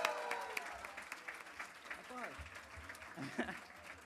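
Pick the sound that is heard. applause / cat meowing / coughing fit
applause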